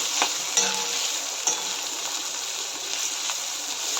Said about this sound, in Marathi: कांदा आणि गाजर टाकून घेऊया हे सर्व व्यवस्थित मिक्स करून घेऊया